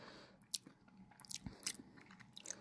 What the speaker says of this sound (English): Okay, listen to this bite.